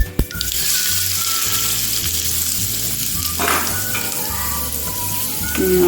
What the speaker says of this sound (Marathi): आणि हा चरका आपण आता या चटणीवर देऊया